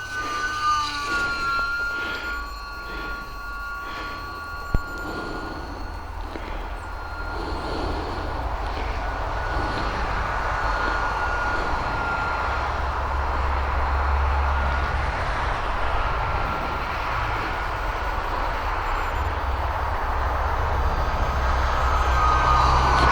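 A small, light UMX Timber X RC model plane flies in very high winds on a cold morning, its electric motor whining steadily and loudly for over twenty seconds under strong wind rumble, with one sharp click partway through.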